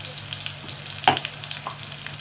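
Ginger garlic paste and turmeric powder fry in a pan for a cabbage dish, giving a steady close sizzle with one louder spit and a faint stir partway through.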